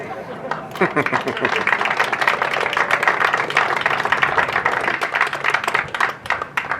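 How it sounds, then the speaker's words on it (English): A crowd claps and applauds for seniors at a high school lacrosse senior night ceremony, steady sustained clapping with a voice speaking over it throughout. "Let's have one more round of applause for this awesome group of seniors."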